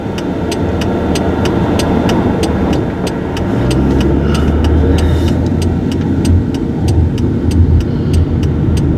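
Engine of a 2002 Chevy Malibu while driving, a steady low rumble that swells into a deeper drone partway through, with road noise and a regular ticking like a turn signal clicking over it.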